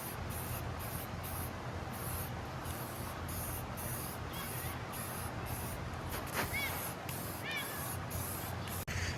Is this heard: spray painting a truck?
yes